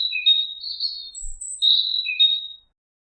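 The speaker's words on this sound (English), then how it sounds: "You heard a bird." A bird gives a run of thin, high chirps and short tweets, fairly loud and close, spread across a few seconds before going quiet.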